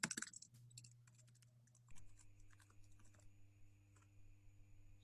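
A computer keyboard is typed on nearby in quick light clicks, first in a dense burst and then in sparser taps over a steady low hum.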